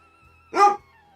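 A single sharp dog bark, close and fairly loud, with a faint low rumble beforehand and quiet afterward.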